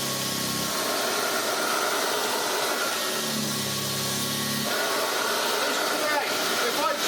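A restored Hoover Junior 375 upright vacuum cleaner with new bearings and a fairly full bag runs continuously, giving a steady hissing rush of airflow over a low motor drone, close and loud, with a brief lower-pitched shift midway.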